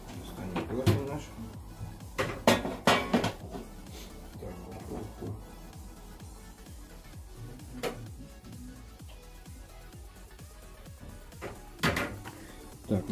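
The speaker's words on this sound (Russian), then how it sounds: "Достанем противень наш." A metal baking tray is pulled out near a kitchen oven, giving a cluster of loud clanks and knocks early on, then quieter handling and a couple more thuds near the end.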